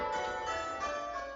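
Church bells ring in a dense, sustained wash of overlapping metallic tones as the ringers bring them down in rounds.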